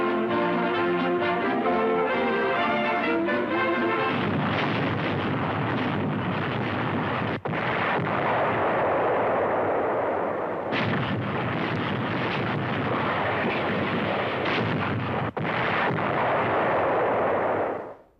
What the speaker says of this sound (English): Heavy bombing and shelling finally ends the siege.